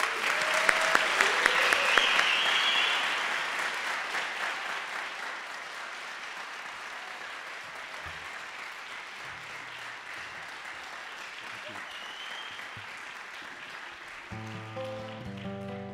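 Strong applause from a crowd, loud at first and then gradually tapering off into quieter clapping, with a hint of music entering at the end.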